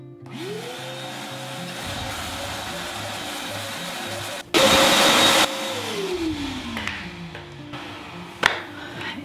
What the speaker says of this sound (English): And then we're gonna vacuum all of that up.